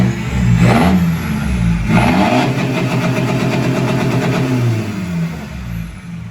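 A Mercedes 2.0 CDI diesel car engine revs hard and steadily on a dyno power run with a hard-cut rev limiter, loud and close, with a rising roar that holds for several seconds before easing off.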